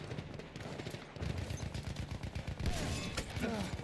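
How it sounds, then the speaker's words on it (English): Battlefield 1 gunfire: rapid machine-gun bursts with a fast, even rhythm, fairly close and sustained through most of the stretch, with scattered distant shots behind. "The hell is shooting me here?"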